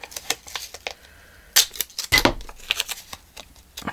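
Adhesive tape being pulled and pressed down over a dried, glued journal cover, heard as a run of crisp crackling tears and sticky rustles, with one louder stretch midway.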